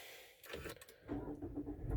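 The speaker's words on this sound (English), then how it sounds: "Car fires into life" A 2.0-litre 165PS manual Mazda CX-5's engine cranks and catches, settling into a low rumble after some clicks and rattles, recorded close and fairly quiet.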